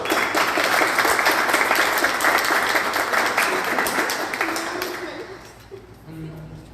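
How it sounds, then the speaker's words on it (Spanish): Audience applause at a binational symposium on identity and borders, a dense sustained patter of many hands that fades out, with a voice talking faintly beneath near the end. "Les pido un fuerte aplauso"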